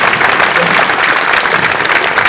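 Audience at a tennis club prize-giving clapping loudly for the referee, dense continuous applause filling the room with a murmur of voices underneath.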